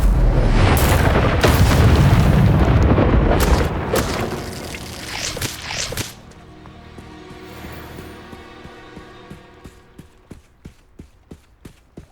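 An Incendio fire spell in Hogwarts Legacy bursts in a loud, roaring whoosh lasting several seconds, then fades to a quieter scene with regular, evenly spaced clicking steps.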